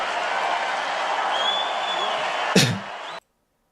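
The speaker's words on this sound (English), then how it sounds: "Why are they cheering that?" A crowd cheers and applauds steadily in a played recording, a broad roar of voices with a sharp burst near the end before it cuts off abruptly.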